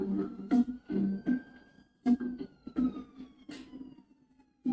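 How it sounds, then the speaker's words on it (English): A siren inside an NBA 2K basketball game, heard as a faint, slowly falling tone running behind repeated loud percussive beats and game noise. "It's always somebody coming, some kind of siren when I come out."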